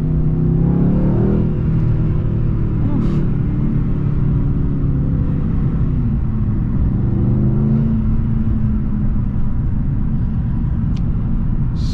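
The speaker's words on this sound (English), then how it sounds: "Makes the exhaust sounds very aggressive." A 2020 Mercedes-AMG C63 S sedan with its 4.0L V8 and exhaust valves open revs loudly up close, a deep rumbling roar with rising and falling pitch over a steady heavy idle.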